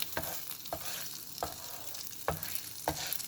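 French toast frying in a pan over moderate heat, a steady soft sizzle broken every half second or so by brief louder crackles and scrapes, close and alone with no voices.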